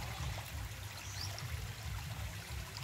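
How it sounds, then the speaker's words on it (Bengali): Water flows out from under a newly built housing-scheme house still under construction in Dwarika, washing soil away from its base: a quiet, steady trickle and gurgle that continues throughout, with no voices. "দেখুন বাড়ির তলা দিয়ে জল বেরোচ্ছে।"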